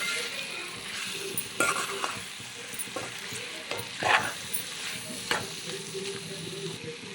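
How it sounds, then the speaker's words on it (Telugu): Country chicken curry is stirred in a sizzling pan after salt goes in, with a steady frying hiss and repeated close scrapes and knocks of the spoon. "టూ స్పూన్ సాల్ట్ వేసి బాగా కలపాలి"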